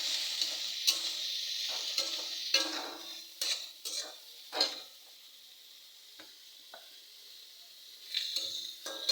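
Leafy greens fry in white oil in a pan, a steady soft sizzle broken by scraping stirs and clinks from a spatula, close and fairly quiet, with no voices.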